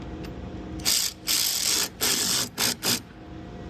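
Bolt being turned by hand into a U-nut while fitting an Ark splash guard on a 2023+ Jeep Gladiator, giving several short bursts of close ratcheting clicks with brief pauses between.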